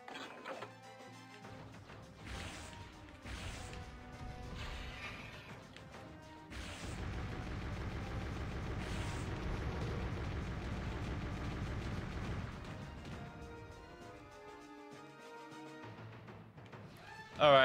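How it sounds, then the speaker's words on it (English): Missiles strike in Turok Evolution, a run of loud crashing impacts and rumbling explosions that swell and hold for several seconds amid game noise, then fade out before a final sharp hit. "Oh, there go the missiles."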